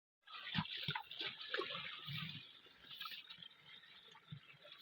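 Water drains from a fish pond at an aquaculture farm, a steady splashing trickle with scattered drips and gurgles, moderately close and continuous throughout.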